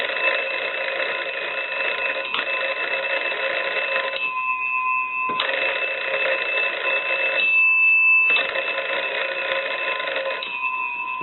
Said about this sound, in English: We want to go ahead and ring the unit with the magneto